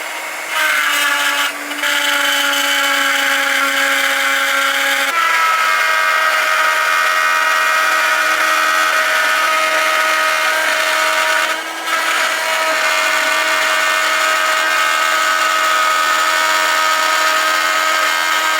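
A power router trims the edge of a wooden epoxy tabletop, a loud steady high whine with a brief dip and restart partway through, then a second short drop in pitch as the bit bites.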